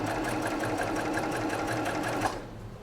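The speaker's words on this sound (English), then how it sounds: "I'm going to sew across the intersection" A sewing machine stitches across the intersection of quilt pieces in a fast, steady whirring run with rapid rhythmic needle beats, close and loud, then stops abruptly near the end.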